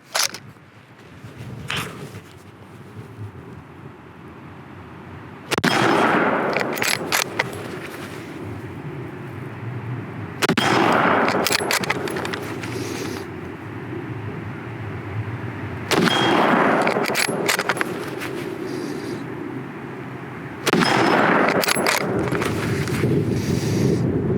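A Lee Enfield bolt-action rifle fired outdoors, five loud, sharp reports spaced about five seconds apart, each followed by a rolling echo and the metallic clack of the bolt being worked.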